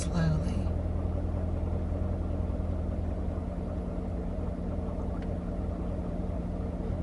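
A Corvette with a manual transmission, driven by a learner, gives a low, steady engine rumble close by as it moves off, with a brief burst of other noise at the very start.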